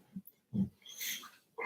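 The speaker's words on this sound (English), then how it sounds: "Look at this crazy dog." A dog snorts and snuffles close by, with short throaty puffs and a longer hissing exhale.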